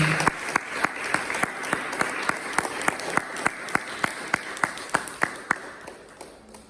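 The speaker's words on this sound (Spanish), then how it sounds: "Dale un aplauso al Señor." A church congregation claps in a steady, evenly spaced rhythm, sharp beats about twice a second over a soft wash of applause, moderately loud and close.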